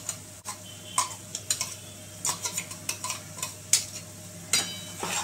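Corn stirred into spiced oil masala in a pan, a series of irregular metallic clinks and scrapes from a spoon against the vessel over a low background hum, close and without talking.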